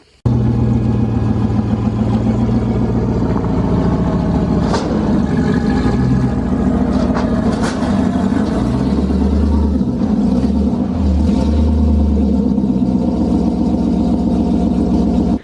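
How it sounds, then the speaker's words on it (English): A drift car fitted with a straight pipe exhaust rumbles loudly and close, its engine idling and revving in steady bursts for the whole stretch, with no talking over it. "She sounds so much louder with that straight pipe attached on the back there."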